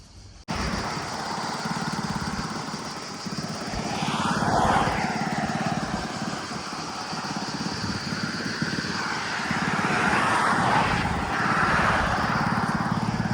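A moped on a road in Croatia gives a steady engine drone with wind rush, rising and falling slightly as it rides along, close and continuous with no talk.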